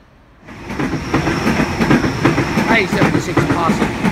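A train pulls out of Burwood station, its rumble and rhythmic wheel clatter rising after a quiet first half-second and holding loud and close, with a faint squeal near the end.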